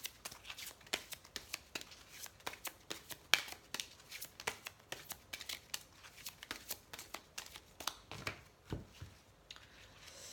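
Tarot cards shuffled by hand in a quiet room, a long run of rapid, soft riffling flicks close to the listener, fairly faint and continuous, with no talk.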